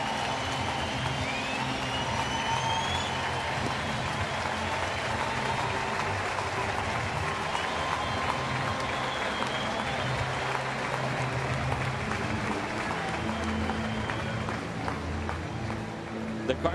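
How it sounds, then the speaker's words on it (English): A packed stadium crowd at a St. Louis Cardinals baseball game rises in a standing ovation, with sustained applause and cheering filling the space evenly throughout, and a voice comes through faintly beneath. "and a standing ovation for them."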